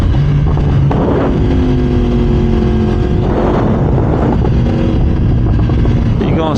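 A Yamaha R1M and a Suzuki GSX-R1000 accelerate hard in a run, producing a loud, close, continuous engine roar with wind rush and rising tones as the revs climb.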